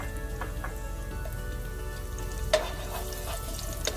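Chopped garlic cloves frying in a little oil in a pan for shrimp lo mein give a steady, even sizzle at close range, broken by a couple of faint clicks and one sharper tap, with no voices.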